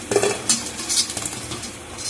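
Fried sago and potato fritters are lifted out of a pan of hot oil, with metal utensil scrapes and clinks against the pan over a soft, continuous sizzle and no talking.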